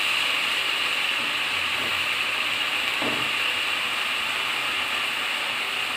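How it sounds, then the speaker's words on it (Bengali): Red amaranth greens (lal shak) frying in a wok, giving a steady hiss of oil and steam throughout, with a couple of faint scrapes of stirring near the middle and no talking. "এটা আবার নাড়াচাড়া করতে হবে যাতে লেগে না যায় কড়াইতে"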